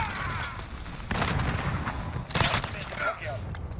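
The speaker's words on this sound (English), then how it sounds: "I'm getting shot at from somewhere." Gunfire in the video game Call of Duty Modern Warfare comes as bursts of shots and thuds in two loud clusters, mixed with game sounds and a person talking.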